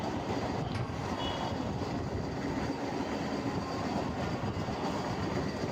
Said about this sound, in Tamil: இது ட்ரெயினில் போகும்போது எடுத்தது தான்.